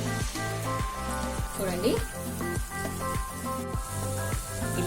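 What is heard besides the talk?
jalebi frying in oil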